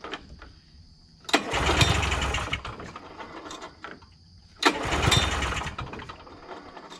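A vintage Polaris snowmobile, left sitting for 20 years, pull-started twice: two loud close bursts of the engine churning, each lasting about a second, with quieter mechanical ticking between them.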